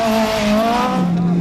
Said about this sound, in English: But John Hunter finds his Escort Cosworth hasn't got quite as much grip as he thought.